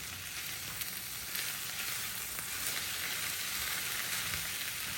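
Tomatoes being stirred into cabbage and ground beef in a pot, a faint steady sizzle and simmer with soft crackling and no talk.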